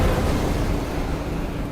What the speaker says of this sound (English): Why was there an explosion?